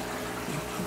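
Water from a shower adapter runs straight through a 15 mm hose into an aquarium during a water change, a steady close rushing fill with no speech.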